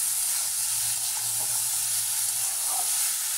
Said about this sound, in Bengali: সবজিগুলো দিয়ে আমি কিছুক্ষণ কষিয়ে নেব।